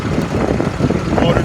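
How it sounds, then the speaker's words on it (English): The engine of a 2007 International 4400 dump truck runs at a steady, close idle with a low rumbling drone, and talk is heard over it. "Motor sounds good."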